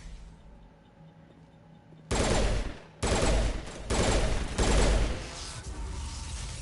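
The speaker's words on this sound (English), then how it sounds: "Oh, it's a burst fire." Burst-fire gunshots from Mass Effect: after a quiet start, four loud, close bursts of rapid shots follow one another, each a sharp cluster of cracks with short gaps between.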